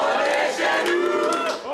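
A large crowd sings together at a French National Rally event, loud and continuous with many overlapping voices forming a sustained chant-like melody.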